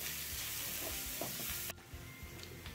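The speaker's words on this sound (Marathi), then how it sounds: "आपल्याला कांद्याचा रंग छान बदलेपर्यंत आपण हा कांदा मीडियम फ्लेमवरती परतून घेणार आहोत।" Finely chopped onion sautés in a pan over a medium flame, giving a steady close sizzle with faint stirring scrapes. The sizzle drops noticeably quieter partway through.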